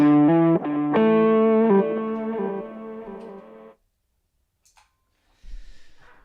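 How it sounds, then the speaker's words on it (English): Electric guitar through a fuzz pedal, noisy and distorted: several loud sustained chords ring for about four seconds, then silence, a couple of faint clicks, and a short burst of hiss at the end. "good old fuzz that's really going to lay down some filth ought to be kind of noisy"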